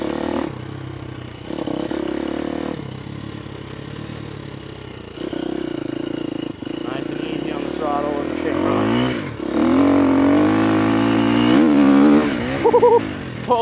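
A dirt motorcycle revs hard around a motocross-style track, engine rising and falling through gear changes at close range and loud throughout, with a rider's voice briefly over the engine noise.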